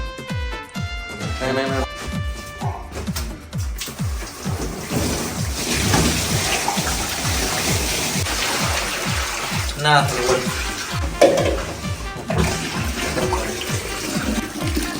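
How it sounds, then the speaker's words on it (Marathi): Tap water runs steadily into a small home swimming pool being filled for a child's birthday, a continuous splashing gush heard close by, with speech and some music over it. "आता आपण ही भरण्यासाठी नळ चालू केलाय"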